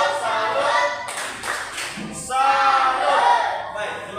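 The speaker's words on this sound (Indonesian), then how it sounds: "Baik, tepuk tangan." A classroom group claps together in a lesson, short bursts of rhythmic clapping mixed with voices chanting along, fairly close and loud.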